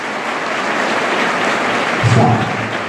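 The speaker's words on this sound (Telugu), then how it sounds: "మీ అమ్మకి మీ నాన్నకి ఒక్కసారి గట్టి క్లాప్ కొడితే స్టార్ట్ చేద్దాం" Students in a residential school hall clapping loudly for their parents, a dense, sustained roar of applause from a large group that swells slightly near the end.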